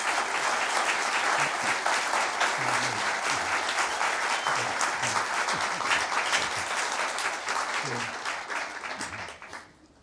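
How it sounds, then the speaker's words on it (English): An audience at a NASA event honoring Tuskegee Airman Charles McGee gives a sustained round of applause, a dense wash of many hands clapping at steady volume before fading out near the end. "Round of applause for that."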